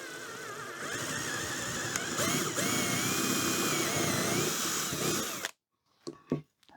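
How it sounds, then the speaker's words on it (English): A power drill bores one large hole through soft pine, a steady loud whine with slight pitch wobble for about five seconds, then cutting off abruptly, followed by a couple of short knocks. "we'll just drill one large hole in the middle"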